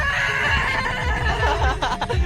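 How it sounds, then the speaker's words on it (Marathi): A horse neighs loudly and close, a long shaky whinny with rising and falling pitch during a wedding trip outing, ending with a few shorter snorting pulses. "ए घोडा घोडा"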